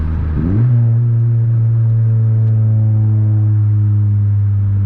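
A 10th-generation Honda Civic Si engine revs up sharply, then settles into a loud, deep, sustained track-exhaust drone up close.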